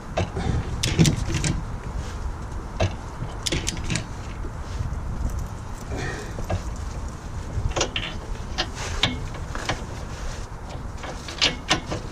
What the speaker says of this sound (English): you can hear that click there, that's the torque wrench telling me it's there